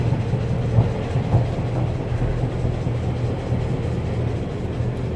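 A Northern Railway Class 142 train rumbles steadily with low mechanical drone and faint rail clatter, heard from inside as it rolls slowly into the platform at Dunston.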